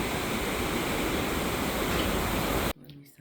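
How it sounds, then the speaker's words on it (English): Rushing river water where two rivers meet at Aguas Calientes, a loud, steady, broadband roar close by that cuts off abruptly near the end. "Here's the two rivers of Aguas Calientes coming together"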